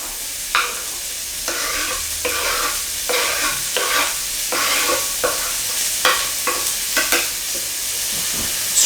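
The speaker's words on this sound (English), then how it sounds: "Let's put our chilies in." Chilies frying in a pan of chilli con carne made with plant-based mince, a steady close sizzle broken by regular crackling bursts and stirring scrapes, with no talking.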